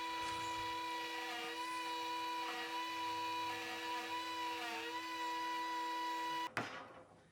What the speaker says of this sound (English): nice slow shallow passes here to get the dado in